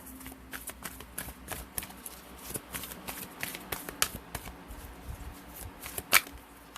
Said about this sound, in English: Let's pull one of these cards.